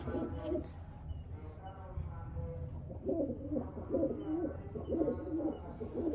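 A female pigeon coos softly in low, repeated murmurs, with a person talking nearby over it.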